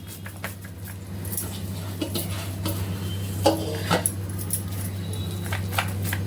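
Batter for cabbage vadi being spread and patted onto an oil-greased plate, with soft scraping, tapping and light clinks of utensils on the plate over a steady low kitchen hum.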